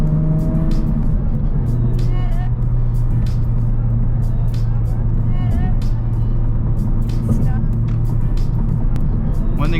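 Honda Civic Type R FL5 with its stock exhaust in R+ mode drones steadily from inside the cabin while driving, a constant low engine hum with road noise and scattered clicks throughout.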